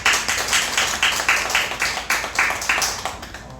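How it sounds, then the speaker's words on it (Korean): A church congregation at a Korean Thanksgiving worship service claps together in a fast, even rhythm to glorify God, many hands striking in unison with crisp, regularly spaced beats and no talking. "우리 박수로 하나님께 먼저 영광을 올려드리겠습니다"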